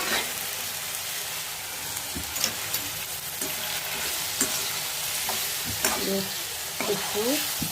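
Ridge gourd pieces fry in oil in a pan and are stirred, giving a continuous bright sizzle with periodic scraping and clicking strokes of the spatula, close and steady.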